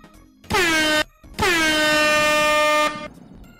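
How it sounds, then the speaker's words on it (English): Two blasts of a very loud air horn, a short one followed by a longer sustained blare, with brief quiet between them. "So we do need a loud air horn. This is going to be pretty loud."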